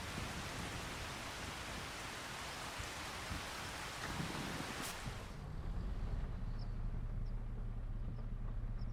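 Steady rain hiss in Farming Simulator 25, a broad even wash that shifts to a softer, lower patter with faint drips partway through, alone with no talk.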